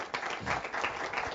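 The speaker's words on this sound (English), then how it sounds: "if you could give another round of applause, please" Audience applause at a talk with a former First Minister of Scotland, a steady wash of many hands clapping, moderately distant and even, with no talk over it.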